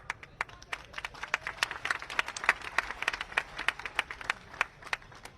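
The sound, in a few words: crowd applause at a political rally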